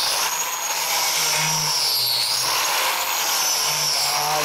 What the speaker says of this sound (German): Und ihr könnt mit dem Sägeblatt eintauchen ins Material.